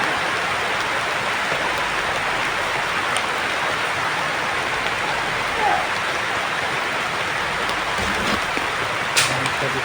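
Steady rain falls as a dense, even hiss across the whole stretch, moderately loud and unbroken, with a couple of faint clicks and no clear talk.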